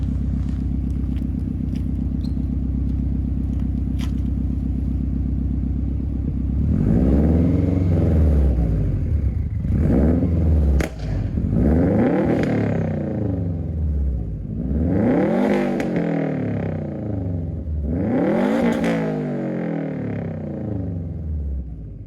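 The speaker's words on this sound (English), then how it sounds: "I'm just gonna do a quick exhaust clip, I guess" A turbocharged Legacy GT wagon's exhaust idles with a deep rumble, then revs hard several times, each rise and fall loud and close with brief pauses between.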